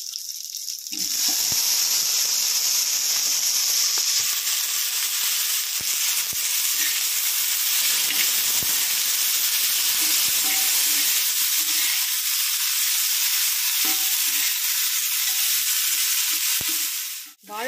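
Raw plantain frying in hot oil with mustard seeds, chana dal and green chili, a loud, close, continuous hiss and sizzle with occasional stirring knocks, no talk over it.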